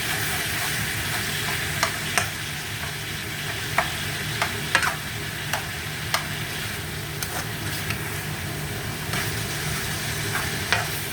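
Tomatoes softening in a pan of cooking mutton give a steady, moderate sizzle with periodic sharp scrapes and taps of a spoon stirring, close and alone without any talking.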